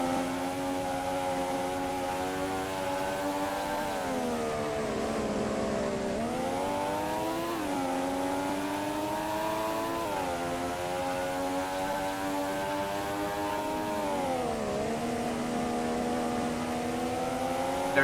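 Formula One cars race down a straight during the Spanish Grand Prix, a Williams up against a McLaren, their engines screaming in a steady, continuous loud drone with pitch rising and dipping as they pass and shift, and no talk over it.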